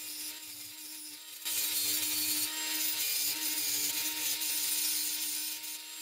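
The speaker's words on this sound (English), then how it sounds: "we plan to add a fourth track to the staging yard on this surface where I'm polishing the tips of the screws" Screw tips being polished down flush on the surface of a model railroad staging yard. A steady, gritty abrasive rubbing with a faint whine underneath, growing louder partway through and then holding fairly constant, close up, with no talking.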